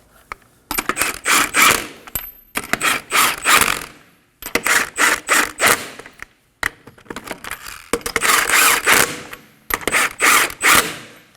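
A hand ratchet snugs the wheel lug nuts on a 2011-2016 Kia Optima in five or six bursts of rapid, loud, close clicking, each lasting about a second and separated by brief pauses.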